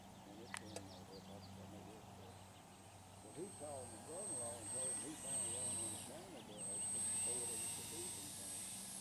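FMS PA-18 Super Cub 1700mm electric RC model airplane making a slip flyby, a soft whirring drone that swells and fades as it passes at a distance, with people talking over it.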